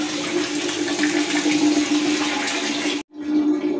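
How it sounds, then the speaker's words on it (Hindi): Hot water runs steadily from a tap supplied by a geyser, a broad continuous splashing gush that cuts out briefly near the end and then resumes, with no talking. "पानी भी हमारा एकदम गर्म आ गया है"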